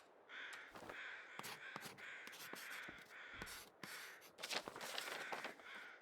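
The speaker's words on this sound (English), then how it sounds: "Noisy, noisy crows." Crows caw repeatedly in the survival video game The Long Dark, harsh calls recurring steadily and fairly close against an outdoor ambient bed, with no talking.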